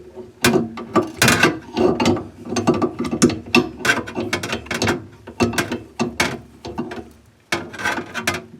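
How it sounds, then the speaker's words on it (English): An adjustable wrench turns a nut beneath a faucet during a faucet replacement, giving loud, repeated metallic ratcheting clicks and scrapes in irregular bursts, close up, with no talking. "take an adjustable wrench like this. You put it onto that nut right there."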